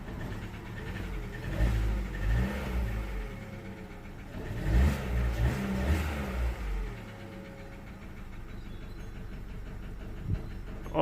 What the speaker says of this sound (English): Let me see if there's any funny noise coming from the engine.